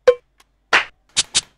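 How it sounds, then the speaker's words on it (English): Shaker voice from a Kawai R-100 drum machine: two short, crisp bursts close together, alone after a few other isolated hits, with no talking. "A shaker there."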